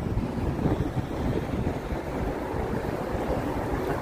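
Steady outdoor wind buffets the microphone on a sunny, cold day, a continuous broadband rush with no breaks throughout, loud and close.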